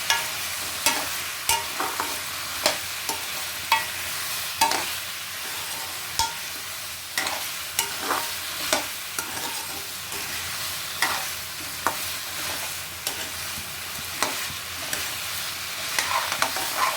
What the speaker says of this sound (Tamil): உப்பு சேர்த்து நல்லா வதக்கி வச்சு கொஞ்சம் மஞ்சள் போகிறேன்